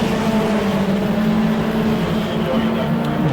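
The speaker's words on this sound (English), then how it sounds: "Car doesn't sound all that great when it comes by the front straightaway." A race car on the front straightaway at a charity oval race in Auburndale, sounding rough as it goes by, a loud steady engine drone with a fairly constant pitch and no speech over it.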